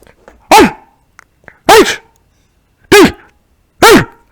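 A dog barks four times in a spaced, steady rhythm, loud and close, with a few faint softer sounds between the barks.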